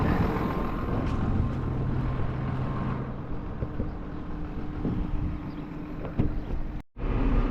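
A tractor creeps slowly through mud and manure along a fence line at about half a mile an hour, its steady low engine rumble close by with wind noise, cutting out abruptly near the end.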